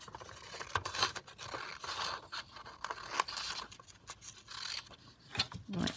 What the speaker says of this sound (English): So I'm going to cut this piece just literally kind of